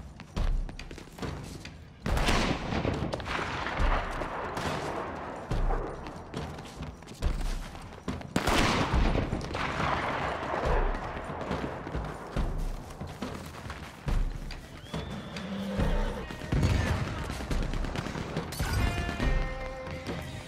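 Machine gun fire in Red Dead Redemption 2, a long stretch of dense bursts, heavy thuds and crashes with hardly a gap, loud throughout, and a player's voice now and then over the shooting.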